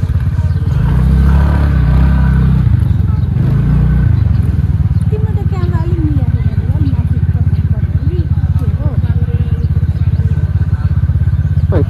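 A scooter on a ride from Kathmandu toward Sailung drones with a steady, loud low engine hum and road rumble throughout, while voices talk over it.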